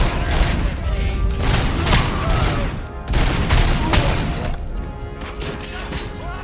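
Heavy gunfire from a powerful weapon in the RoboCop: Rogue City video game: loud repeated booming shots with crashing, smashing impacts and debris, close and dense across the stretch, with someone talking over it.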